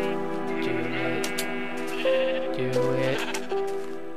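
Sheep in the video game Minecraft bleating repeatedly, several clear wavering cries in quick succession over a soft steady game background.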